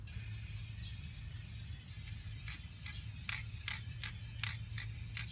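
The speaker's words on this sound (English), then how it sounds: "So I got the bag all over and just start spraying." An aerosol spray paint can coats car rims in a run of short hissing bursts, faint and close, over a low steady hum.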